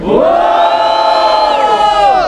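A crowd at the grand final of a street rap battle in a metro setting roars and cheers loudly and continuously, with sustained shouted whoops from many voices massed together up close.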